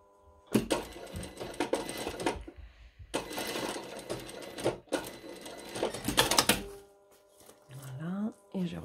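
Sewing machine stitching the hem of a long dress in short loud bursts separated by pauses, each run a rapid mechanical rattle, with a quiet voice speaking near the end.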